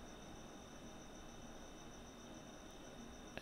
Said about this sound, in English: You can hear the crickets in the background because it's nighttime